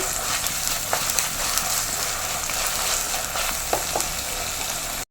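Ginger garlic paste sautéing in a pan for a Kerala-style curry, giving a dense, bright sizzle with a few sharp stirring scrapes and taps, close up and steady with no voices.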